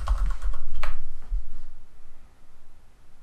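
Computer mouse clicks while working in Articulate Storyline come as a cluster of crisp, close clicks early on, then taper off over a low steady hum with no talk.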